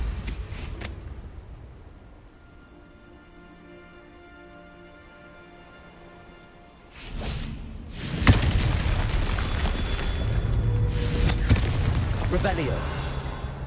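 A Confringo fire spell blasts out in the Hogwarts Legacy video game: after a quiet stretch, a sudden loud boom and crackling burst hit near the end, followed by sustained rumbling fire and debris noise.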